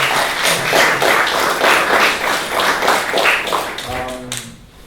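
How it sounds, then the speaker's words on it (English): Audience applause after a round table discussion, a steady crowd of clapping hands that fades near the end as a voice begins talking. "thank you guys so much, and round of applause"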